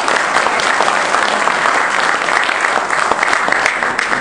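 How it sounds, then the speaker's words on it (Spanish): Strong, loud applause from an audience at a debate on a national flag airline, dense continuous clapping close and sustained for the whole stretch. "Por favor, recibamos con un fuerte aplauso"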